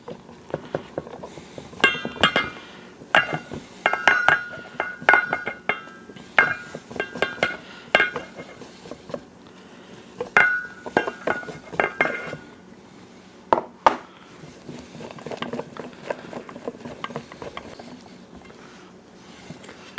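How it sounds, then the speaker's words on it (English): Flour batter being mixed in a bowl for air fryer zucchini, broken up a little at a time, heard as repeated close clinks and scrapes of a utensil against the bowl in irregular bursts. "I'm only mixing in a little bit at a time, so I make sure I break all that flour up"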